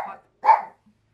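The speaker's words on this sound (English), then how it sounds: "It's a dog out front." A dog barks twice out front of a house, two short, loud, clipped barks with a brief pause between them, then quiet.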